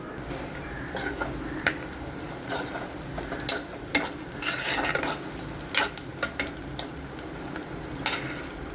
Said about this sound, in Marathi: आता कांदाही बऱ्यापैकी भाजत आला आहे